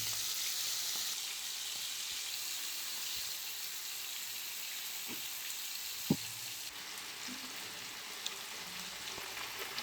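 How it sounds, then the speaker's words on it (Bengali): Marinated chicken pieces fry in white oil in a wok, a soft steady sizzle with a few small pops and clicks of the spoon, quiet and without talk. "মাখিয়ে রাখা চিকেনটা একটা একটা করে তেলে দিয়ে ভেজে নেব।"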